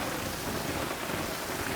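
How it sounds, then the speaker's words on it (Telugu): Heavy rain pours down in Hyderabad as a dense, steady roar of falling water, close and unbroken throughout with no voices. "భారీ వర్షం పడుతుంది"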